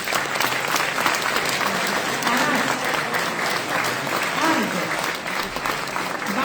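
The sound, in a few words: audience applauding student competitors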